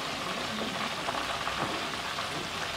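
Onion pakoda deep frying in hot oil in a restaurant kitchen, a steady, dense sizzle and crackle holding at an even level throughout, close by, with no voices.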